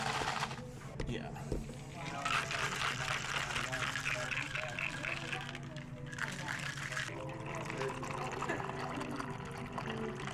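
Hot water pours in a steady stream in a small coffee shop, a continuous liquid wash lasting several seconds under background music and nearby activity.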